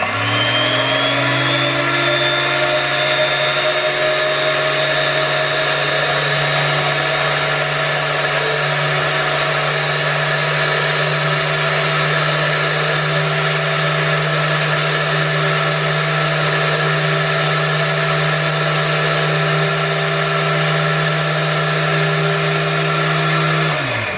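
A high-speed Dremel bench drill spins a 0.65mm bit at maximum speed while drilling a PCB, a loud, steady whine with tonal harmonics held evenly throughout, alone without talk.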